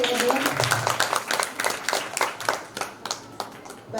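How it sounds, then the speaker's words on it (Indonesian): A group claps for the children at an Islamic jurisprudence knowledge exhibition, with dense, scattered handclaps that thin out and fade over a few seconds. "tepuk tangan dulu untuk adik-adik"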